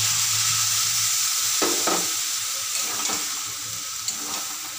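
Water poured into a pan where potatoes, spices and vegetable stems have been frying, a loud hissing sizzle that gradually settles, with a few soft clatters of a spoon against the pan, close up and without speech.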